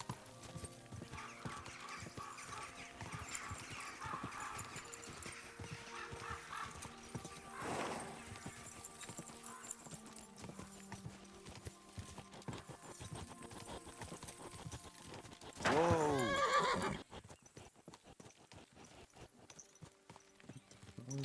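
A horse in Kingdom Come: Deliverance II clip-clops at a steady walking pace over a game soundscape. A loud, brief whinny breaks in near the end, and the hoofbeats continue faintly afterward.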